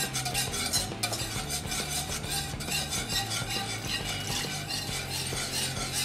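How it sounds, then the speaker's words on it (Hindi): Butter-roasted flour being stirred briskly with a utensil as milk is added little by little for white sauce, quick repeated scraping and swishing strokes against the pan, close and steady with no talk. "दूध हम थोड़ा थोड़ा करके डालेंगे और इसे तुरंत ऐसे हिलाएंगे ताकि इसमें लम्स ना हो"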